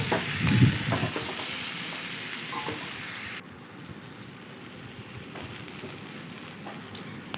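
Moong dal and ginger fry in a pan with a bright, steady sizzle and a few stirring scrapes, loudest at first, then softening to a quieter, even hiss after a sudden drop midway.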